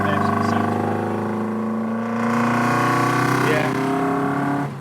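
A Ford Anglia fitted with a Lotus Twin Cam engine revs up to around 4,000 rpm, giving a loud, close, steady engine drone that climbs in pitch and holds, then cuts off at the end.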